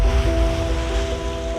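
Rough, choppy sea washes around a sailboat under way off French Polynesia, a dense continuous roar of surf and rushing water with a faint steady tonal hum underneath, no voices.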